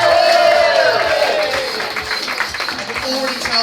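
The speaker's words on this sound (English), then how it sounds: "Keep that applause going." A live comedy audience at a Brighton Fringe show applauds and cheers loudly and continuously, a dense wash of clapping and whoops with voices mixed in.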